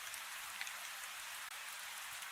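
Steady rain falls outdoors as a soft, continuous hiss of drops on surfaces, faint and even, with no voices.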